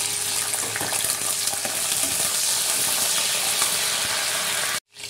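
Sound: okra (bhindi) frying in oil

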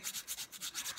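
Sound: nail file smoothing a nail

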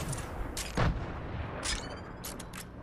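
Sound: gunfire in the video game Fortnite

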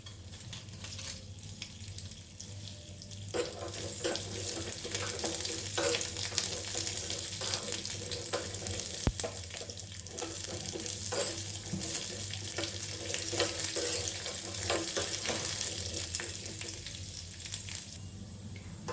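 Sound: frying chana dal and raw peanuts in a pan

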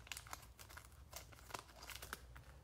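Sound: cutting open a plastic cello pack wrapper

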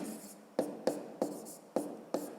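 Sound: writing a math sum on paper

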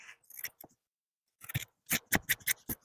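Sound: scissors trimming fabric next to a thread

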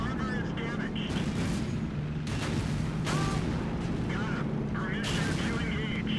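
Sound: tank cannon fire in World of Tanks video game

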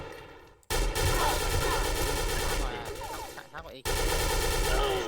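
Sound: Silver ARX16 rifle firing in a shooting video game

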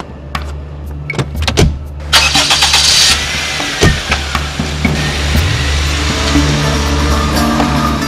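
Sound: car engine starting

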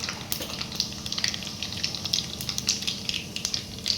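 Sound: cumin seeds sizzling in hot oil in a kadai

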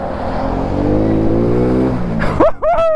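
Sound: motorcycle engine revving on a muddy track

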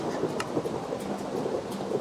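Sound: rain and thunder in the video game Minecraft

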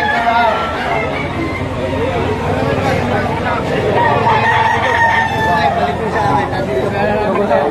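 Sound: young rooster (stag) crowing at a poultry auction

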